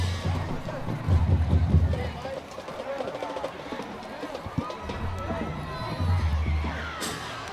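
Crowd noise from the stands at a night high school football game between South Garland and Lakeview Centennial, a steady murmur with scattered cheers and shouts under a commentator's voice.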